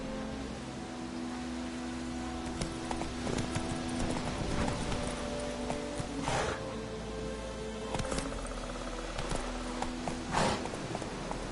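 Steady horse hoofbeats clip-clop at a riding pace in The Witcher 3: Wild Hunt, continuous and fairly close for several seconds, with a few louder knocks over a low ambient background.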